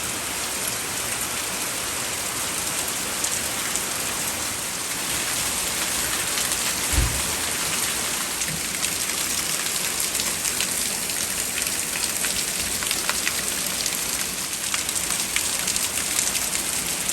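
A heavy summer rainstorm pours down in a dense, unbroken hiss of rain hitting surfaces, steady and loud for the whole stretch, with a brief low thump partway through.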